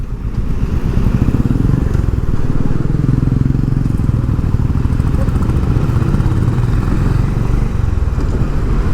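Honda H'ness CB350 motorcycle engine revving after a downshift, a steady, loud, close throaty rumble that holds through the whole stretch with slight rises and dips.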